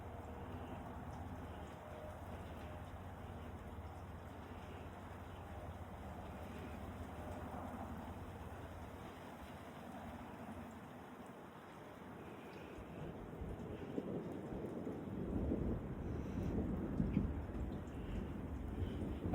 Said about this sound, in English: So first we had a hailstorm and now it's snowing.